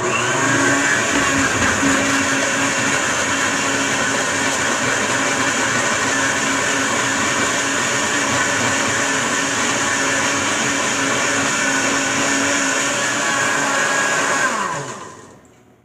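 A kitchen blender crushes ice for a spirulina drink, whirring in a steady, loud, dense roar for about fourteen seconds before spinning down abruptly.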